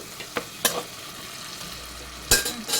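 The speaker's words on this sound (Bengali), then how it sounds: "আদা বাটা ভালোভাবে মশলাটাকে একটু ভালোভাবে কষিয়ে নেব" Ginger paste masala frying for a cashew chicken curry, a soft continuous sizzle broken by a few sharp clinks and scrapes of a spoon on the pan, nearby and without speech.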